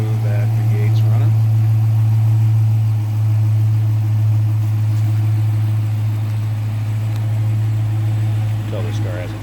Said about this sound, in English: Hear how smooth that V8's running